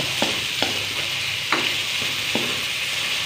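Browned garlic and sliced hotdog fry in a pan for fried rice. A loud, steady sizzle runs throughout, broken by a few sharp scrapes of a spatula. No one speaks.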